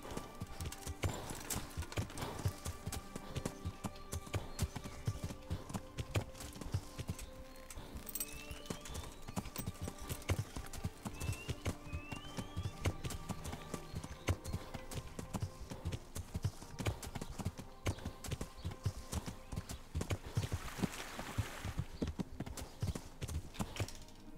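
Horse hooves clip-clop steadily and close in a video game, a fast, continuous trotting rhythm that runs throughout with faint birdsong and a brief whinny-like sound in the background, and no voices.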